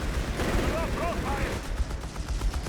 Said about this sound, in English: Vickers engaging with the other side.